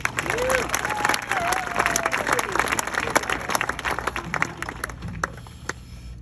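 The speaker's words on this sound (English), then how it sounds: "Round of applause." A graduation ceremony audience breaks into sustained applause, dense clapping with scattered cheers and a few whistles, steady and loud throughout.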